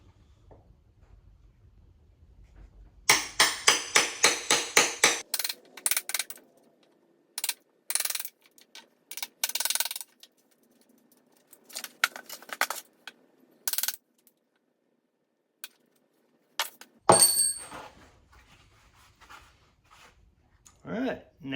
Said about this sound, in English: Then I'm just going to take a chisel and chisel this thing out.